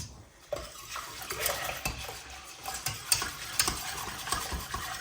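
A creamy mixture thinned with cold water being stirred in a pot, soft repeated scraping and light clinks of the utensil against the side, fairly quiet and close with no voices.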